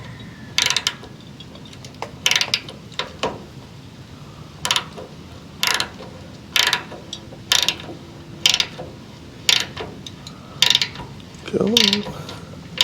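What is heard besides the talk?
ratchet tightening bolt on CJ5 rollover valve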